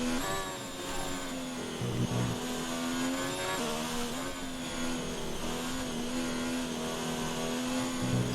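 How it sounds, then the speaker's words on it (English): An F1 car engine in the F1 2019 racing game drones at a high pitch for the full stretch, the throttle feathered so the tone dips and rises slightly, loud and steady with no voices. "So much feathering of the throttle through there."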